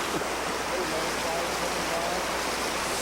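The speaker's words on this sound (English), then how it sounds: "Down by the waterfall." A waterfall on a trout fishing trip in Colorado gives a constant, close rushing roar of falling water that holds at an even level throughout, with no breaks.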